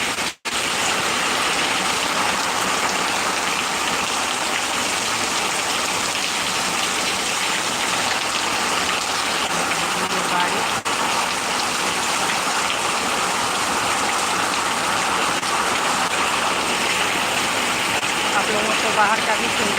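Heavy rain pours steadily in Bengal, a dense, continuous hiss of water that stays loud and close for the whole stretch with no talk over it.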